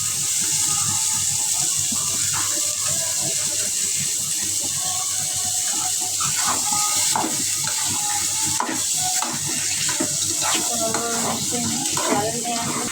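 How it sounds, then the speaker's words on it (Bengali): Water runs steadily into a cooking pot of chickpeas that have just been fried with spices, giving a close, continuous hissing splash with light clinks and faint sizzling underneath. "তো জলটা দিয়ে দিই ছোলার ভিতরে।"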